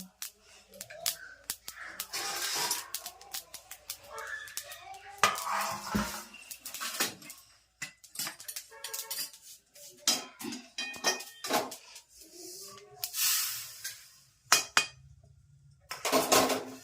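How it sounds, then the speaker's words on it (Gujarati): Black sesame seeds are stirred in a metal pan while they roast, giving repeated close scraping, clinking strokes of a spoon against the pan in uneven bursts. "કળા તલ શેકાઈ ગયા"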